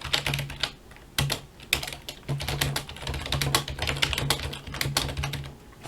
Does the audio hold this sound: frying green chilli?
no